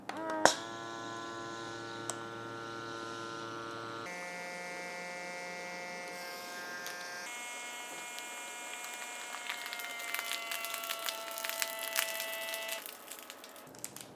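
A handheld vacuum sealer's small electric motor hums steadily, shifting pitch a few times as it pumps air from a bag, with a faint rattling buzz toward the end before it cuts off automatically.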